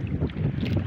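Strong wind buffeting a small fishing boat at sea, a loud, continuous rushing roar with heavy microphone wind noise and no talk.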